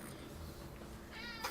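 A cat meows once, faint and brief near the end, over a low background hum with no speech.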